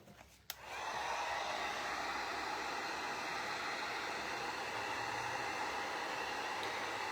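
A hair dryer switches on with a click and runs as a loud, steady, even whoosh of blowing air, drying a homemade prayer jar craft, alone with no talk.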